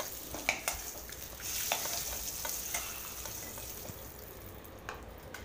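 Eggs fry in a kadai for a cauliflower and egg curry, giving a soft continuous sizzle with frequent small crackles and spits, close but fairly quiet.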